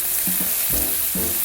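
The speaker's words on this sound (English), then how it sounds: "Do you hear that sizzle?" Chicken cooking in an air fryer at 400 degrees gives off a close crackling sizzle in short bursts and pops, with no talking over it.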